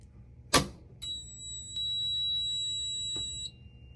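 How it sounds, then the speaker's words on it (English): A Notifier ACM24-AT fire alarm annunciator on a house system, showing a fire alarm condition: a sharp click, then a steady high electronic tone that holds for about two and a half seconds before cutting off, with no voices. "There's our fire alarm."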